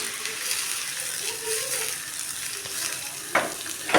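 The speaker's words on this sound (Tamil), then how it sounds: "இதை வந்து நல்லா குலுக்கி விட்டு நல்லா வதக்கிடணும்." Onion, green chili and curry leaves sauté in a little oil for Chettinad spicy lentil paniyaram, with a continuous soft sizzle and a couple of louder stirring scrapes toward the end.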